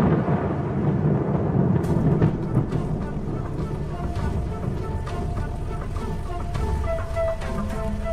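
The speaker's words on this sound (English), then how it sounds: "the promised rain arrives at last." Heavy rain arrives over a dry, open plain, a steady wash of downpour with deep rumbling thunder rolling underneath, loud and continuous with occasional sharper cracks, no voices.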